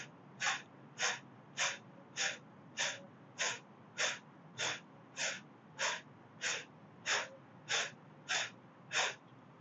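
Rapid breath of fire yoga breathing performed while kneeling on the heels, with about fifteen sharp, evenly spaced nasal exhalations at a steady rhythm, close and clear with no talking.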